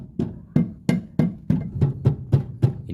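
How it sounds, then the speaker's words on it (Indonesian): A rubber mallet striking a car's front suspension parts near the tie rod; about nine dull, close thuds in a fairly steady rhythm, loud and with no talk. "Gunakan palu karet ini ya."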